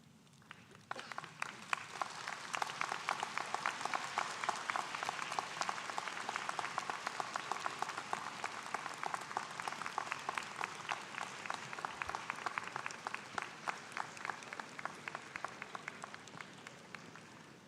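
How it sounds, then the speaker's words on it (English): A graduation convocation audience stands and applauds at a university summer ceremony, steady dense clapping filling the hall for over fifteen seconds, moderately distant and without speech. "stand, look around you and behind you, and applaud all who have helped you to get to this point"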